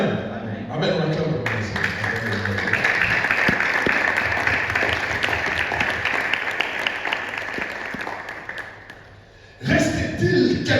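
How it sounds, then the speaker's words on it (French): A church congregation applauding during a Sunday service, with a long steady wash of clapping that swells and holds for several seconds before voices and a louder burst return at the end. "On acclame."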